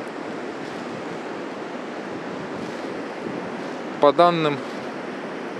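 Storm surf pounds the Central Beach at Anapa after strong wind and rain, a steady broadband roar of breaking waves and wind; a voice speaks briefly near the end.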